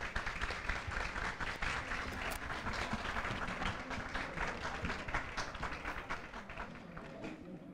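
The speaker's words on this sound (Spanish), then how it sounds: "Aplaudamos la magnífica presentación del Colegio Santa Teresita." Audience applause after a school group's presentation at a literary author event, a dense, steady wash of many hands clapping throughout, moderately distant with a room-like blur and no clear voices on top.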